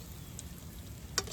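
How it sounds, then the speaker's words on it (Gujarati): Okra fries in hot oil with a quiet, steady sizzle close by, broken once by a single sharp tick or pop near the end. "ફાઇનલી મીંડા તળાય છે"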